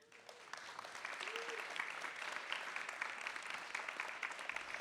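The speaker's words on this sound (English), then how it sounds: "So please hold your applause." Audience applause at a live literary magazine show at the Museum of Contemporary Art Chicago, steady dense clapping from a crowd that fills the room, moderately loud and continuous for several seconds.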